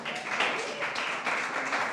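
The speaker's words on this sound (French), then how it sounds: "Oui, applaudissez." Students of a Wellspring Academy reading club applaud together in a classroom, a dense, steady patter of many hands clapping close by for about two seconds, with a voice faintly underneath.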